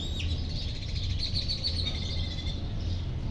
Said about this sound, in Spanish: Qué chulada de pájaros cantando también.